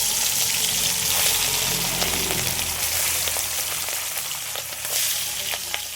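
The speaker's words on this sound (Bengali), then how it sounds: "এবার মাছগুলো একটু হালকা ভেজে নেব।" Hilsa fish pieces rubbed with salt and turmeric fry lightly in hot oil, giving a steady, close, dense sizzle and crackle with occasional stirring, heard alone throughout.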